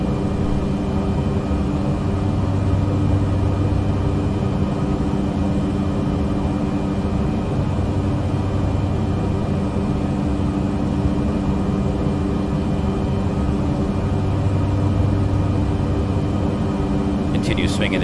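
A steady, loud engine drone of an airplane cruising at night over the Sierra Nevada in Microsoft Flight Simulator 2020, a constant low hum with no letup, plus a brief faint click near the end.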